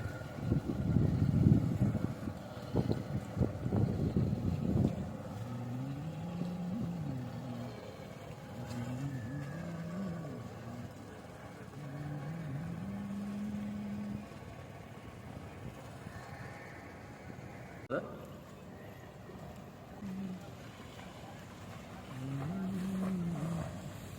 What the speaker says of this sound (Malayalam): ചെറിയൊരു ബോട്ട് പോകുന്നു